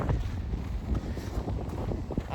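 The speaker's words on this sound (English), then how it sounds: "It's really windy." Strong wind buffeting a microphone outdoors at a dressage outing in the Hunter Valley, a continuous low rumbling roar with gusty swells and no clear talk.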